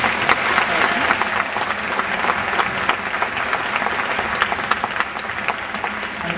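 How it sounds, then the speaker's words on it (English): A stadium audience applauds, a dense, continuous wash of many hands clapping at a steady level for several seconds, with faint crowd voices mixed in. "How about a round of applause for those folks,"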